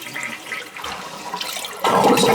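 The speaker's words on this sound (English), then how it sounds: "This one you gotta hold the handle down for it to flush." A household toilet flushes with the handle held down, water rushing and gurgling close by and swelling into a louder surge at the end.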